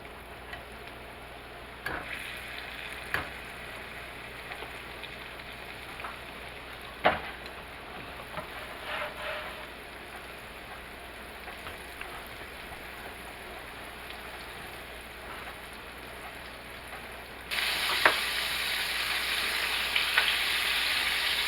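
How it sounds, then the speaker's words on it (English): Okra goes back into hot grease for a second frying, a soft sizzle with scattered clicks and taps that jumps to a louder, brighter hiss near the end, with no voices. "And we're going back into the grease for a minute or so."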